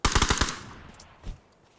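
A quick burst of about five rapid M4 rifle shots in a video game, loud and close, followed by a decaying echo and one more lone shot a moment later.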